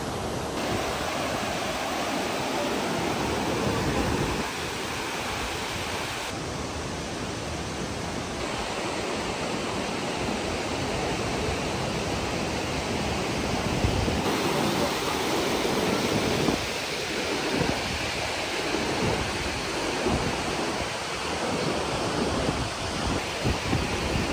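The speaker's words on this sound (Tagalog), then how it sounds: "dahil sobrang lakas na hangin dito, malakas din yung agos" Continuous roaring strong wind buffets the microphone over the steady rush of a fast-flowing river current on the Tinipak River, loud and unbroken throughout.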